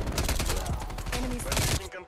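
Rapid bursts of gunfire in the Call of Duty Cold War video game, with a Milano 821 submachine gun among the weapons, crackling close and loud in dense volleys before cutting off abruptly near the end.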